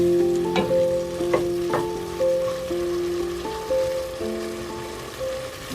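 Mexican picadillo with salt and pepper frying in a pan, a steady soft sizzle with a few light clinks and stirring scrapes, no voices.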